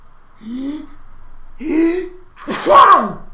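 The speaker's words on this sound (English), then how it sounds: "Sneeze coming." A single loud, close sneeze from a man, preceded by a couple of sharp inhaled gasps as it builds, with no talk.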